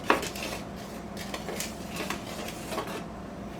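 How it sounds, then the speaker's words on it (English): A teaspoon clinks and scrapes against a bowl while flour mixture is stirred, with a sharp tap at the start and a few lighter knocks after, close and fairly quiet with no talking. "I like to give it a pretty good stir because there's several things in it."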